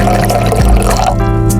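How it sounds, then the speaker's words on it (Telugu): Hot water pours into a dish, a loud continuous close-up splash and gurgle that runs for a short stretch, with no talking. "ఇందులో వేడి నీళ్ళు వేసి మూత పెట్టేస్తా"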